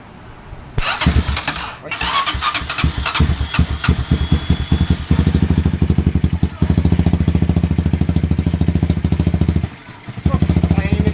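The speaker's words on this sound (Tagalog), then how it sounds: "Oh, tahimik ng makina mo" Honda XR200 motorcycle engine turning over and catching, then settling into a loud, close, steady thumping idle with a brief dip before it picks up again; a voice calls out briefly.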